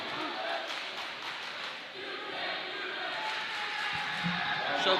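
A fired-up student section cheers and roars at a girls high school basketball game between Silo and Latta, a sustained crowd din that swells toward the end, heard under a commentator's continuous talk.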